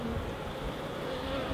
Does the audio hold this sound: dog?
no